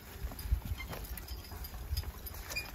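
Horses of a three-horse hitch plowing a field: faint, scattered hoof thuds and soft clopping over quiet outdoor background, no voices.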